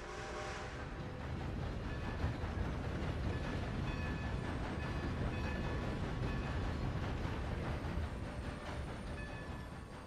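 A train in the video game Red Dead Redemption 2, bound for Emerald Station, rumbles steadily along the rails with a dense, continuous roll and faint clatter. It stays loud and even for the whole stretch, with no talking.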